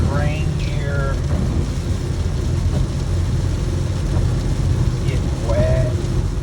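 Heavy rain pours in a steady, dense hiss, heard from inside a moving vehicle over a low road and engine rumble, with a few brief squeaks rising above it.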